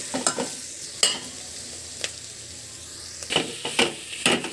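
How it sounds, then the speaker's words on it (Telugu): Ivy gourd and tomato pieces fry in a pan with a low, steady sizzle. A spatula stirs and scrapes in sharp, irregular strokes, clustering toward the end. "మనం కట్ చేసుకున్న టమాటా ముక్కల్ని వేసుకొని మరి కొద్దిసేపు టమాటా ముక్కలు ఉడికే వరకు కలిపి"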